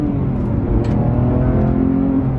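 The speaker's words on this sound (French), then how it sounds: "avec toujours le flat 6 Atmo, avec un bruit extraordinaire" Porsche 911 GT3 Touring with a naturally aspirated flat-six engine, a steady low droning roar heard from inside the car on a country road, continuous and fairly loud with no clear rev rise.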